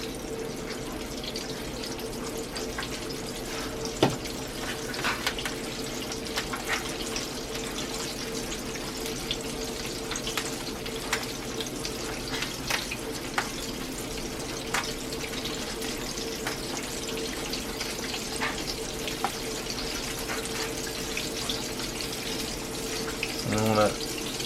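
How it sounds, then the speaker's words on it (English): Chicken fries in hot oil in a cast iron pan, giving a steady, close crackling sizzle that runs throughout with a few faint clinks. "I'll let you guys watch it dance in the oil for a while."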